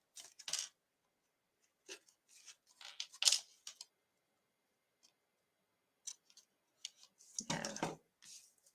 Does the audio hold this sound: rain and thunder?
no